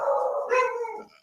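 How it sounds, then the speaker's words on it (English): Dogs in another room downstairs let out a single drawn-out howling bark that falls off over about a second, clear and fairly loud, with no talking over it. "I don't know if you can hear my dogs are going mad downstairs."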